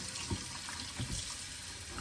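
Tap water runs steadily over cut chicken pieces in a kitchen sink, a continuous close splashing stream with a few brief louder gushes.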